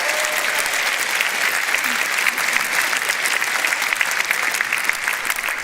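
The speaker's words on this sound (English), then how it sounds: "Big round of applause for all of our speakers here on the floor." Steady applause from a sizable audience at a Reform UK local election rally, dense clapping that holds at an even level throughout with no pauses.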